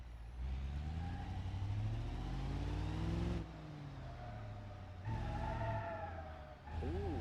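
A big block car engine revs in the BeamNG.Drive game, with rising and falling engine tones in two loud bursts separated by a brief lull, up close and free of talk.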